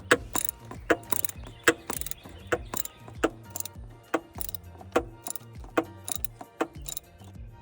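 A 7mm ratchet wrench on an extension tightens an intercooler hose clamp on a Ford F-250 6.7 Power Stroke, giving a close run of sharp, rhythmic ratcheting clicks, about two per second, with no talking.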